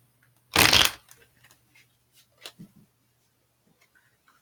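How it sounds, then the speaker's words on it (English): A deck of tarot cards is riffled in one short, loud burst, followed by a few soft clicks and taps of cards being handled in a quiet room. "One more shuffle."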